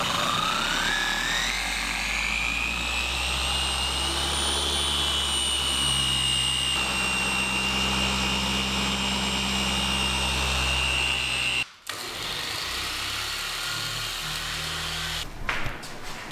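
Machine polisher buffing the paint of a car ahead of ceramic coating, a steady loud whirring drone with rising and falling pitch, briefly cut off near the end and then resuming alone.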